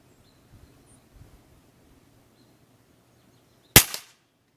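A single sharp shot from a customized Benjamin Maximus .22 air rifle firing an 11-grain hobby pellet outdoors, loud and close with a short decay, after faint rustling and soft handling noises.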